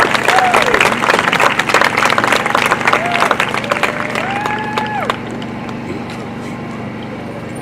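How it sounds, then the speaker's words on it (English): Applause and clapping from a crowd honoring a senior at a high school girls' soccer match, steady and fairly loud throughout, with a loudspeaker voice talking over it in places. "another round of applause for senior number 0"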